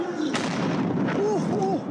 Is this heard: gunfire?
yes